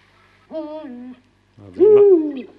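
Two deep male owl hoots, a two-tone song, sound close and clear in a quiet night, each a sustained tonal call, the second louder and sliding slightly in pitch.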